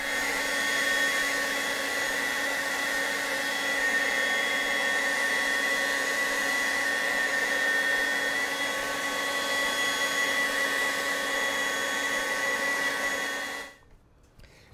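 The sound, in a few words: competitor cordless leaf blower running, compared with STIHL BGA 250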